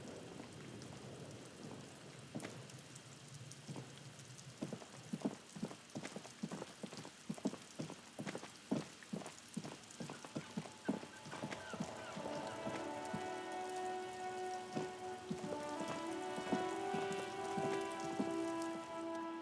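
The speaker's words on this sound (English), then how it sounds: "It's raining again." Rain falls in the video game Disco Elysium, a soft steady patter with a run of irregular clip-clop-like knocks, faint and distant, then a sustained tonal music bed rising over the rain toward the end.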